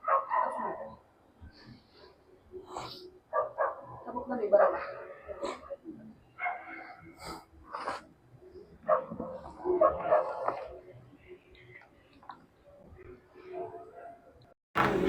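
A pet dog at home barks, yips and whimpers in short intermittent bursts near household compost bins, mixed in with people talking nearby.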